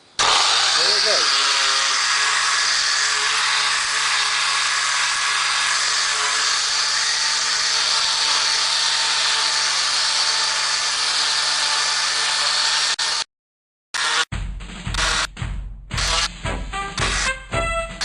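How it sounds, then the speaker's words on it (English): An electric sander works on an Atari Red Baron arcade game board, a steady broadband whir that runs loud and continuous for about thirteen seconds, then stops abruptly and gives way to short handling clatter and intermittent bursts. "we're off to the sander now"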